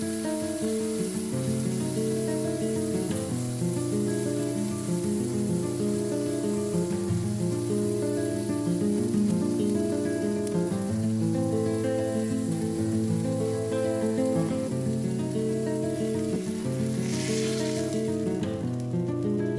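A smash burger patty topped with smoked white cheddar slices sizzles steadily in a pan, a continuous hiss running under background music.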